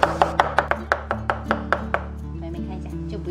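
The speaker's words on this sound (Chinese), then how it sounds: "然后再剁成蒜末。" Garlic cloves minced with a cleaver on a board: a quick run of about ten crisp, close chops that slows and fades into a quiet background hum.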